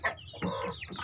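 A pacek babon breed rooster gives a short run of clucks, close and moderately loud, with no voices over it.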